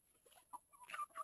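Soft, scattered clucking from chickens, a few short calls at a distance, fairly quiet with no talking.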